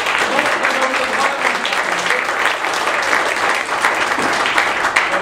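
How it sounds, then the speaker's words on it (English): An audience at a candidates' forum claps steadily for the candidates, dense applause filling the room for several seconds with a faint voice or two underneath. "I think everyone should give the candidates a round of applause so far."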